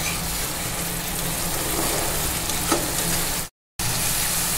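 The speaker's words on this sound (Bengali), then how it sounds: "টমেটো পেস্ট আর পেঁয়াজের পেস্টটা কিছুক্ষণ আমি ভেজে নিব।" Tomato paste and onion paste fry in a pan for a fish curry, giving a steady, close, even sizzle with no talking and one brief dropout near the end.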